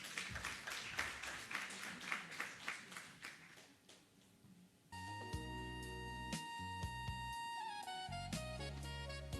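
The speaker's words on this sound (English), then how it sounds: "Please give him a round of applause." A conference audience at a Namibian international cybersecurity event claps during an awards presentation, the applause soft and fairly distant for about four seconds before music takes over.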